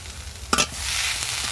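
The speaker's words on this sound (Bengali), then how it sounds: "আলুটা এইরকমভাবে আমি 1 মিনিটের মতো নাড়াচাড়া করে নেব।" Grated potato and half-fried onion stirred in a sizzling pan, with a steady loud hiss and a sharp scrape of the spatula near the middle.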